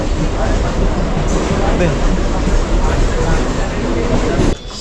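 Inside a moving local train near Nalasopara, Mumbai, an almost empty carriage, a loud continuous rumble and rattle fills the space, with muffled voices underneath.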